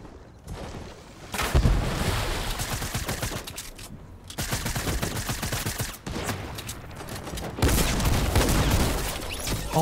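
Rapid-fire SMG gunfire in a video game rattles in loud, sustained automatic bursts broken by brief pauses, close and continuous across the clip.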